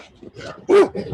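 A dog lets out a single loud, close bark or yelp, startled by a man carrying a mattress, with faint softer canine sounds around it.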